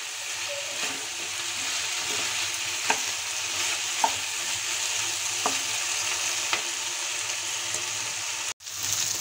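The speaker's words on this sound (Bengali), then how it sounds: "আলু, মশলা, পেঁয়াজ কলি ভালোভাবে কষিয়ে নেব।" Potatoes, spices and onion stalks frying in a pan, a constant close sizzle with occasional soft scrapes of the stirring spoon and a brief dropout near the end.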